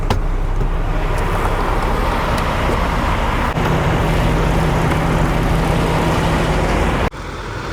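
Steady road traffic in summer on a highway crossing North Dakota and Minnesota, a loud continuous roar of tires and engines with no talk, briefly dipping near the end.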